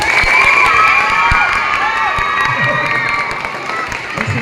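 A crowd of villagers and children at a barangay feeding event in Santa Rosa, Balangiga, Eastern Samar, shouting and cheering loudly and continuously, with overlapping voices rising and falling throughout.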